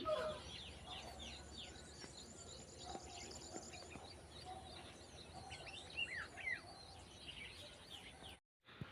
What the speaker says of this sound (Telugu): ఇలా పిచ్చుకల సందడి వలన మనసుకి ఉపశమనంగా ఉంది